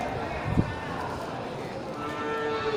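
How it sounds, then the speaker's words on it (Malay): Aceh cattle low in a livestock yard, one short lowing call rising briefly above a steady crowded background, with people talking nearby. "Kategori sapi darah dari jenis sapi Aceh."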